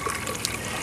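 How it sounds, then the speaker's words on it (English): Water pouring from a tall pipe into a backyard aquaponics fish tank, a steady close splashing trickle with no pauses. "the water is coming in through this tall pipe, and it's basically entering the fish tank down there at the bottom"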